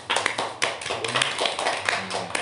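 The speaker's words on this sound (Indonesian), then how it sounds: "Tepuk tangan dulu." Studio audience on an Indonesian talk show clapping together, dense burst of handclaps at close range with a few sharper slaps, filling the whole moment without speech.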